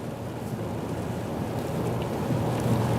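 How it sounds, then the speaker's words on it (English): Heavy rain pounds an SUV driving through a severe storm near Atlanta, a dense, steady roar of water on the vehicle with low road and wind rumble underneath, loud and constant with no voices. "obviously a lot of rain"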